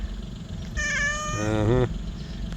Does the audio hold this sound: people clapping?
no